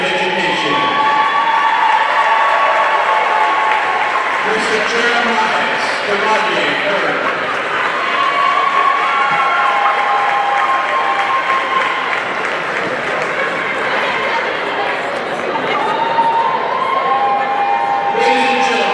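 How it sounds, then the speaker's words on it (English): A packed high school gym applauds and cheers steadily for seniors honored at a girls' varsity basketball game. The loud, continuous clapping and scattered shouts run under an announcer's voice over the PA. "let's have an extra round of applause for these amazing seniors"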